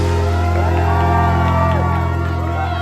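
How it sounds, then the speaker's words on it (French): Audience cheering and whooping at a model contest, a continuous crowd roar with scattered shouts over a steady low hum. "Les acclamations se font plus fortes"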